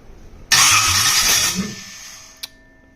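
A carbureted LS V8 cranks and fires, bursting into a loud rough roar that fades over about a second and a half, followed by a short sharp pop near the end.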